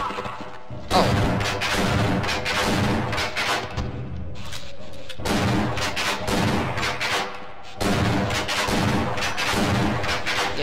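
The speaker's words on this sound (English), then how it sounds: "shotguns against headcrabs are not necessarily the best weapon" Shotgun blasts from the Half-Life video game, fired against headcrabs, ring out as repeated loud, booming shots in quick bursts with short gaps between volleys, dense and close throughout.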